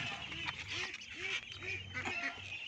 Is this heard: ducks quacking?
yes